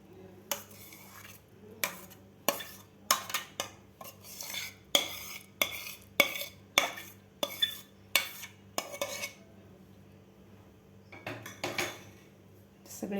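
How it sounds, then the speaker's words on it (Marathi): A spoon clinks and scrapes against a ghee-greased plate as thick raw mango candy mixture is poured and worked out, giving a steady run of sharp, close metallic taps over a quiet kitchen background, with no talking. "आता यामध्ये आपल्याला हे मिश्रण ओतून घ्यायचं आहे कैरीचं"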